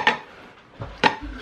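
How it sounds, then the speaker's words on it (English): Metal bread pans being handled in a home kitchen while making sourdough, a few sharp close clanks and knocks spaced apart, with no voices. "So here's my three pans."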